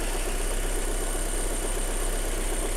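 A Mitsubishi Lancer IX with the 1.6-litre 4G18 engine idles close up, giving off a steady, even mechanical hum and whir at constant speed with no one talking.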